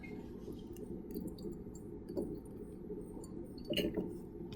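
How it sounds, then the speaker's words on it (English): Squirts of water rinsing the inner sides of a glass titration flask holding sodium hydroxide, soft liquid squishing and dribbling with a couple of faint glassy clinks, close and quiet, no talking. "I'm gonna rinse off the sides."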